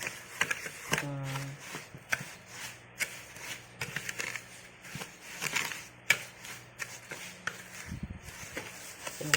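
Eggs being beaten for a steamed chocolate cake batter, giving a rapid uneven scraping and tapping of a whisk in a bowl, close and quiet, with brief talk and a short hum in places.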